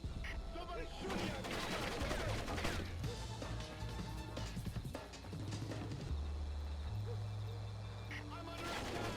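Gunfire in the stealth game Splinter Cell Pandora Tomorrow, a dense run of sharp shots and crashes with deep game music underneath, under a voice talking over the action.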